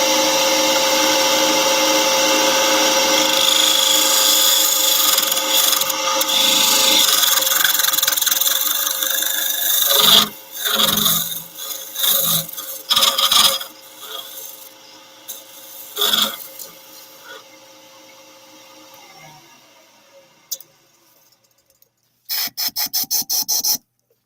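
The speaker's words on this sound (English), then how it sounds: "The side of the tool steel is really burnishing that up nicely." A woodturning lathe spins while the side of the tool steel burnishes the wood, making a steady, close rasping hum that breaks into choppy rubbing bursts midway and then winds down to near silence before a short final rattle.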